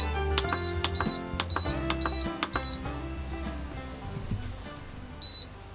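A slow cooker's control panel beeps while being set to its slow-cook mode: five short, sharp beeps in quick succession, then a single beep a few seconds later, over quiet background music.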